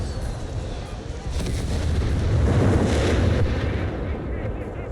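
Artillery shells burst in a World War II battle in Company of Heroes 3, Wehrmacht against US forces, with tanks engaging; a dense, continuous roll of booms and rumbling blasts fills the scene, swelling louder midway.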